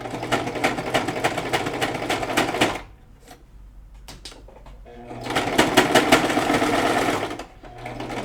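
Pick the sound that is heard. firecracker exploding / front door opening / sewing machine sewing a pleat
sewing machine sewing a pleat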